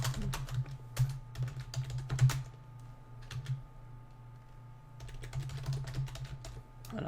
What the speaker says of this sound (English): Sorry, my keyboard's a little bit loud.